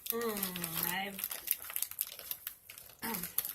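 Someone struggles to tear open a crinkly plastic face mask bag, with sharp rustling and crumpling bursts, while a person speaks briefly at the start and near the end.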